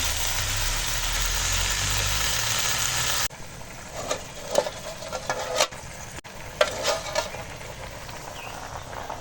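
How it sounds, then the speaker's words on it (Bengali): Washed Malabar spinach greens go into a hot frying pan, where a steady hiss drops sharply and gives way to quieter crackling with scattered sizzle bursts and stirring noises, close up and with no voices. "এবারে ধুয়ে পরিষ্কার করে রাখা শাক দিয়ে দিলাম"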